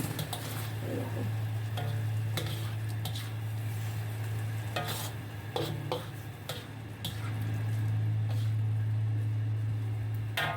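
Nappa cabbage with dried shrimp and vermicelli stir-fries in a pan, a steady sizzle under a low hum, broken by repeated sharp utensil clacks and scrapes against the pan.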